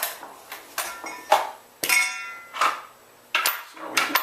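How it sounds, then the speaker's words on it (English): Metal parts of a Benelli Nova pump shotgun clank and clink as the trigger group and bolt are pulled out, a series of sharp, close knocks and rattles spaced irregularly with no talking. "So we'll take our trigger grip and bolt out."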